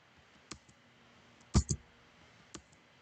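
Sparse clicks of typing on a computer keyboard, a few separate keystrokes with a louder double tap in the middle, close and quiet in a still room.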